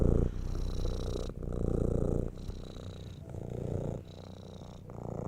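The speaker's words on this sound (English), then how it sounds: "If we need more kitty purrs, you guys let me know." A cat purrs up close, soft and steady, in a rhythmic cycle of breathing in and out that repeats about four times, with no voices.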